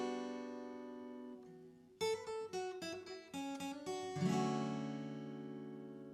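Guitar picking the melody line of a song: a sustained chord rings out, then a run of quick, clean plucked notes follows before settling into another ringing chord. The playing is close and fairly soft, with no voices.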